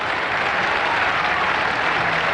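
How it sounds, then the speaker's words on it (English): Home crowd applause at a McDonalds Cup Final cricket match between South Australia and Western Australia in 1983-84, a steady, broad wash of clapping from a large stadium audience throughout. "Much applause from the home crowd in this McDonalds Cup Final."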